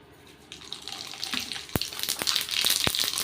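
Mustard seeds crackle and sputter in hot oil in a pan for a traditional South Indian tamarind upma, with a steady hiss and scattered sharp pops that grow busier as the seeds heat.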